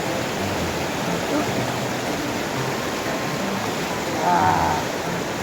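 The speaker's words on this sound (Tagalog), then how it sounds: "Malakas yung agos." Strong current of a mountain river rushes steadily as a broad, continuous wash of water noise, with a brief louder splash near the end and faint voices in the background.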